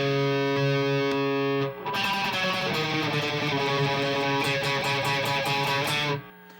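An electric guitar fitted with Fishman pickups plays in coil-split mode, a held chord ringing before a run of fast strummed or picked notes, loud and close with a slightly driven edge.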